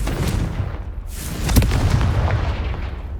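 Confringo spell explosion in Hogwarts Legacy, a loud burst followed by a sharp crack and a rumbling, crackling tail, with a dense explosive roar throughout.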